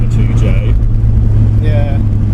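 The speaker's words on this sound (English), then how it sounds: "The engine does have a higher tone" A Toyota Supra MK4 with a 1JZ engine runs steadily with a low droning rumble, voices talking over it throughout.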